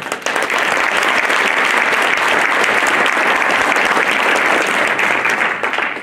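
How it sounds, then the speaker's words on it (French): Sustained applause from a hall audience at a mayor's New Year greetings ceremony in Isola, a dense, steady wash of many hands clapping at full strength for about six seconds. "Et ils méritent aussi vos applaudissements"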